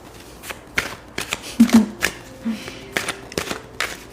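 Tarot cards are shuffled and riffled in quick, irregular bursts close by, with soft taps and slides between them.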